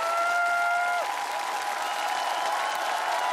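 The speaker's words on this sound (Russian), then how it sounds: "Друзья, еще раз аплодисменты" Audience applause at a Russian talent show after a beatbox performance, a steady mid-level wash of clapping with a brief sustained electronic tone fading out at the start.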